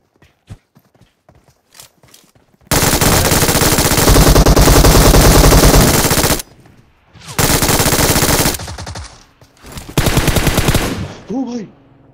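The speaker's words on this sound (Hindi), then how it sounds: "MG3 बहुत कमाल की गन है।" An MG3 machine gun fires in PUBG Mobile, loud sustained bursts of rapid automatic gunfire lasting several seconds each, separated by brief pauses, with scattered single shots before the first burst.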